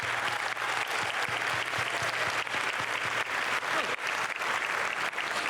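Sustained applause from an audience at a school STEM fair awards ceremony honoring school coordinators, dense clapping that stays loud and even throughout.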